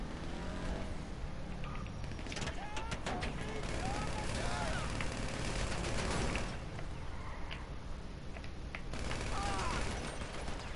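Gunfire during a GTA 5 contact mission, with rapid bursts of shots and mechanical clatter running continuously through the clip while players talk over it.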